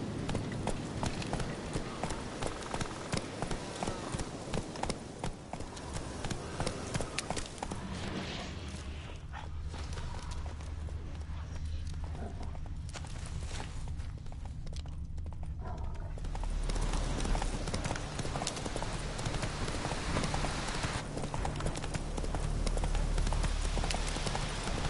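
Roach the horse galloping in The Witcher video game, rapid rhythmic hoofbeats clip-clopping steadily and close for the whole stretch, fading slightly in the middle before returning stronger.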